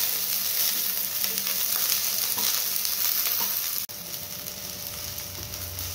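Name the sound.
onions frying in pan for chole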